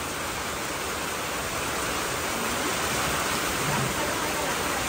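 Heavy rain pours down in a steady, dense roar that stays even and unbroken throughout, with no voices.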